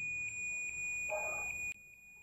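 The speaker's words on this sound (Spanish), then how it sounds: "ahí estamos escuchando el pitido de continuidad" A multimeter on its continuity setting beeps while probing the red and black wires of a fan's capacitor circuit, a steady high electronic tone held for under two seconds before cutting off abruptly, with no talking.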